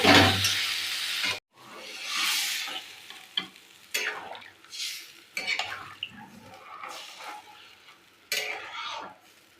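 Green banana and egg curry being stirred and sautéed in a pan, with bursts of sizzling and frying as a spoon scrapes and turns the mixture, intermittent clatter of utensil against metal between louder hissing surges.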